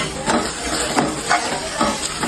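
Onion and garlic frying in a pan for a brinjal bharta, with a steady close hiss and crackle and a few soft stirring swells rising over the sizzle.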